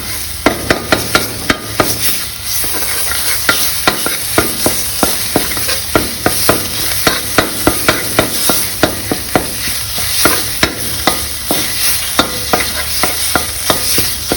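Thai red curry paste for a fish stir-fry being stir-fried in a pan, loud close sizzling broken by rapid, regular clacks of a utensil scraping and tossing throughout.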